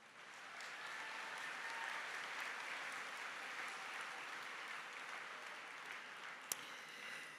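Audience applause at Treasure Coast High School's 2019 graduation ceremony, a steady wash of many hands clapping from a large crowd that holds evenly for several seconds, heard at a distance with no talking over it.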